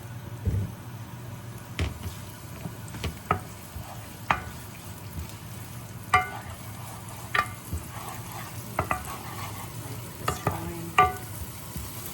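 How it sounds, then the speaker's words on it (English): Minced garlic fries in canola oil with a steady low sizzle, punctuated by a series of short utensil taps and clicks against the pan. "I just kind of cook the minced garlic up a little bit, and you can see it changing color and getting golden"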